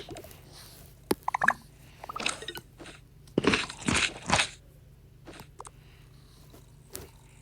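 A child bites and crunches into a hard Easter treat, a few sharp crisp bites followed by a quick run of chewing crunches, close and fairly loud with no talk over it.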